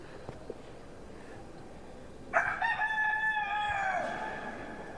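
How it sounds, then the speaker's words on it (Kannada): A rooster kept inside the Batu Caves Hindu temple cave in Malaysia crows once, a loud drawn-out call that rises suddenly over a low steady background hum and trails off after about two seconds. "ಈ ಒಂದು ಟೆಂಪಲ್ ಕೇವ್ ಒಳಗಡೆ ಕೋಳಿಗಳನ್ನ ಸಾಕಿದ್ದಾರೆ"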